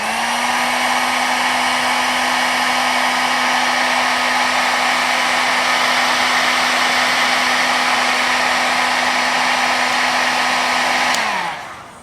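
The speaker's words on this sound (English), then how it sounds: "you put a heat source on this little barrel end, and I'm using a heat gun" A heat gun blows steadily on a small barrel-end wiring connector during a car wiring harness repair, a loud, even whooshing roar that holds for about eleven seconds, then cuts off and winds down, with no talking.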